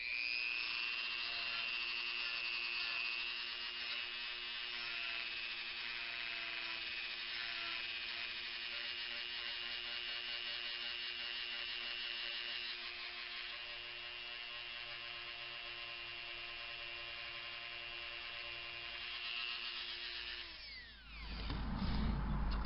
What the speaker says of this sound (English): You got to use power tools with poly finishes to make it appear like it was dinged.